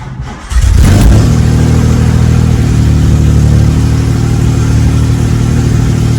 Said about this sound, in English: this morning's cold start. Choke pulled. Ignition on. Key turned.